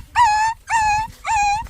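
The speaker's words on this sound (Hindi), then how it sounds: "पिल्ला आवाज कैसे निकारत?" A puppy whimpers in three drawn-out, high whining cries at close range, each rising then holding steady, with short pauses between them over low background rumble.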